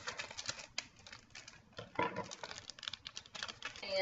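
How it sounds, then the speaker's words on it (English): Adhesive magnetic sheets are torn open by hand at close range, giving quiet crackly rustles and patter in short irregular bursts. "I'm just going to start by tearing into these magnetic sheets."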